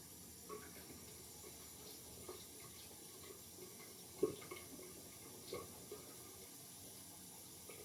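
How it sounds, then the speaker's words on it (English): Warm water running from a tap into a sink, a faint, steady trickle with a few soft splashes and drips, close by and without talk. "A little bit of warm water."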